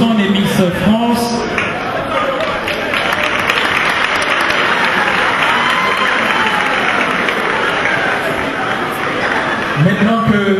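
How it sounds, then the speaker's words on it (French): Loud, sustained audience applause and cheering for contestants at a Miss Haiti International pageant in France, with voices and occasional shouts mixed into the clapping throughout. "Je vous demanderai également d'applaudir Miss New York,"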